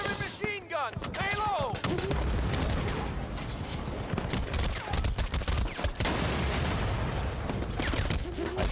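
Dense, sustained gunfire from the video game Battlefield Bad Company, rapid overlapping shots and bursts filling the whole stretch, loud and close, with a voice briefly heard near the start.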